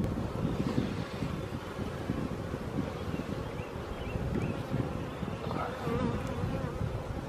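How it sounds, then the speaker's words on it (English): Honey bees buzz in a steady, dense drone close to the microphone as a frame full of brood and honey is set into a beehive, with light wind noise and rustling underneath. "So I'm just going to simply put this bees in here, and you see they are full of brood and honey"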